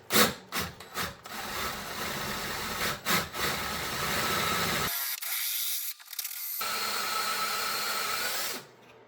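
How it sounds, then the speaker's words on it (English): Stripped brake bolts on a Lotus Elise being drilled out with a sharp bit: a steady, loud power-drill whir runs through most of the clip, broken by short bursts and a brief pause midway. "I'm gonna go ahead and just drill these out and get a nice sharp drill bit"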